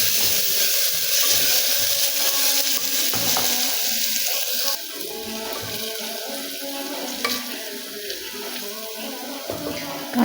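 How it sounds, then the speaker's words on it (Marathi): Chopped onion sizzling in hot oil with mustard seeds, cumin, curry leaves and ginger-garlic paste for a Maharashtrian black vatana curry, a continuous close crackle with occasional stirring scrapes of the pan. "कांदा परतून झालेला आहे."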